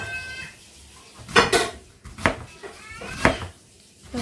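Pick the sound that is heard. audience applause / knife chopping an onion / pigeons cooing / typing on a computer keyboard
knife chopping an onion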